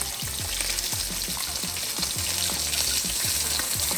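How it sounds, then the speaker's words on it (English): Salmon bites frying in hot oil give a steady, loud sizzle and crackle throughout, with occasional stirring or scraping clicks and no voices. "should only take about 5 minutes, to fry your salmon up real quick"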